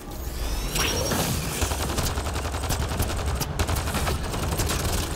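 Turret gunfire in the video game Mass Effect Andromeda: rapid, dense automatic bursts with heavy booming impacts, loud and continuous over a rumbling battle background.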